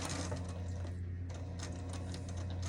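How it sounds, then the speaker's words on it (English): A sewing machine stitches a fabric bowl cover, its motor humming steadily under a rapid, even chatter of the needle, close up and uninterrupted. "I'm going to sew right up to it"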